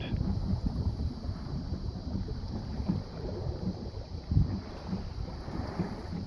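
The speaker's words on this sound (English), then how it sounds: "there's wind enough to fill her new Code Zero sail" Steady wind rushes and buffets around a 19-foot sailboat coastal cruising in fog under a red Code Zero light-air sail, a continuous low roar with mild gusts throughout and no voices.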